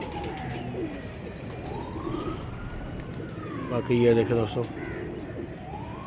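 Pigeons being let out of a loft coo low in the background, with a siren-like wailing tone sweeping up and down and a brief louder burst midway, while someone talks briefly.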